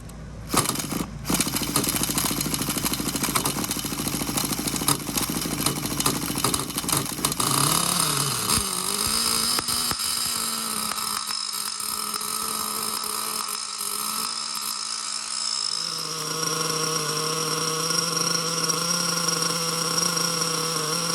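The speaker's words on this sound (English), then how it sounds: "I'll give her a little bit more throttle trim." Losi Aftershock nitro RC car engine running, a loud buzzy two-stroke drone that rises and dips with throttle trim before settling into a steadier lower idle, close and continuous with no voices.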